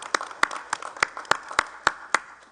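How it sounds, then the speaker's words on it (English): Sparse, slow clapping from a few people at a school committee meeting, about nine distinct claps in a steady rhythm, fairly quiet in a room with no talking over it. "Yeah, we can clap for grants."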